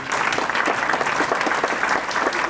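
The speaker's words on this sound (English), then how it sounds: "Give a round of applause." Audience applause at a chamber of commerce business breakfast, a steady, dense wash of clapping hands that holds even throughout.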